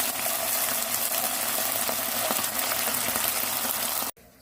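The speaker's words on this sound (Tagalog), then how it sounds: "tapusin natin ang pag-prito sa ating beef" Steady crackling sizzle of beef frying in hot oil for a beef orange recipe, continuous and close, with no voices, cutting off abruptly near the end.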